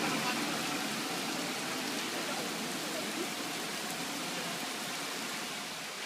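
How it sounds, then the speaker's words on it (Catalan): Steady rain pours down in Barcelona in a dense, even hiss, constant throughout and slightly easing at the very end. "I la pluja a poc es va intensificant."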